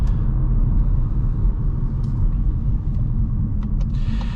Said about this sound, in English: there is quite a bit of road noise. So there's a bit of tire noise